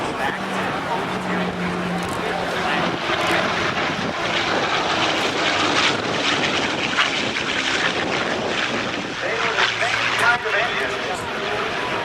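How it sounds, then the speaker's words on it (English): A P-51 Mustang fighter plane's propeller engine drones at a 2008 NAS Oceana airshow, sustained and fairly loud, while an announcer's voice talks over it. "The early versions, the first Mustangs, were powered by Allison V12 engines."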